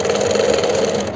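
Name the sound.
sewing machine stitching elastic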